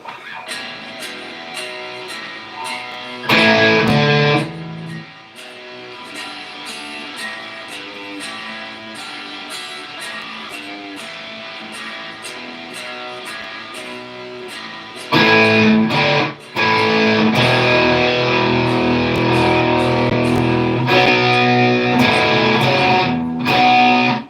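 Amplified guitar plays continuously, with a quieter middle stretch framed by louder, fuller strummed sections; steady and close, no voices.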